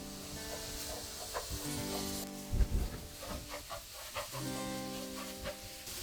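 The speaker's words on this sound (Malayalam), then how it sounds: "മുട്ടയൊന്ന് ഇളക്കി കൊടുക്കുക." Beaten egg frying in a pan with oil beside pushed-aside ingredients for egg fried rice, a steady sizzle with scraping stir strokes and a louder clatter of the spatula partway through.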